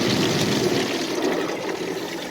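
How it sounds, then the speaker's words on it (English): Water spraying inside a Ryko Softgloss Max automatic car wash at a Holiday gas station in Moorhead, Minnesota, heard from inside the car as a continuous loud, hissing rush. "And the water's still going off."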